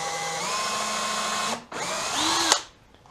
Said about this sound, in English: I put my pilot bit already in my cordless drill.